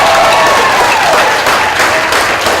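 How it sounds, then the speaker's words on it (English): Sustained applause from a large audience at the close of a student showcase evening of 12 acts, dense and steady throughout, loud and close, with a few voices and cheers faintly mixed in. "Huge round of applause for all of the acts you've seen this evening."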